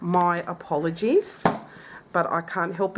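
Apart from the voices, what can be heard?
None of the usual background noises is heard.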